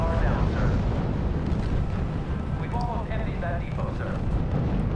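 Artillery bombardment in the World War II strategy game R.U.S.E. produces a continuous heavy rumble of distant explosions, with faint tonal battlefield sounds drifting over it and a person talking throughout.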